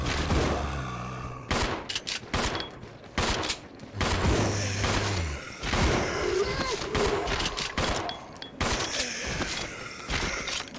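Rapid, loud bursts of gunfire in Resident Evil 0, with shots fired in quick clusters that break off briefly and then resume, close and dominant throughout.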